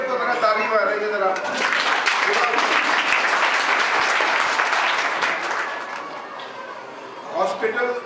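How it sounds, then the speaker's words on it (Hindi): An audience at a hospital event for free cleft lip surgeries claps for the doctors, sustained loud applause that fades slightly toward the end, with a few scattered claps after. "सब जोर जोर से इनको जरा ताली मारेंगे जरा"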